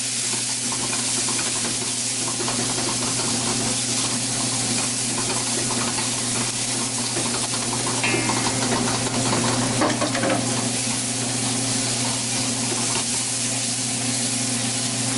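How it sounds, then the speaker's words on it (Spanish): Garlic, ginger and onion sizzle steadily in a hot pan over high heat, a continuous close frying hiss with a steady low hum beneath and a brief burst of louder crackle midway; no one speaks. "Colocamos el ajo y el jengibre. Una vez que sentimos el aroma un poquito, agregamos la cebolla."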